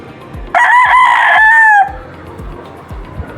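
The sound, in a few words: rooster crowing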